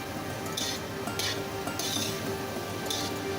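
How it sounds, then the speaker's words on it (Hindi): Boiled rice, a full kilo, is stirred into a pan for chicken shashlik with a spoon, giving a few light metallic scrapes and clinks over a faint kitchen sizzle. "चावल शामिल करके इसको अच्छी तरह मिक्स कर लेंगे"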